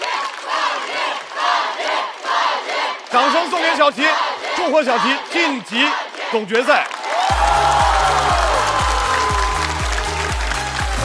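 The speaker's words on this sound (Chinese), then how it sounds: "掌声送给小齐，祝贺小齐晋级" A large studio audience at a Chinese stand-up comedy semifinal breaks into loud applause and cheering, then a musical sting plays over the continuing crowd noise; a host speaks briefly.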